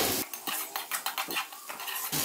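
Chicken, boiled spaghetti and cabbage tossed in a pan: a utensil scrapes and clatters against the metal in quick, uneven strokes over a soft frying sizzle, close and fairly loud, no talking.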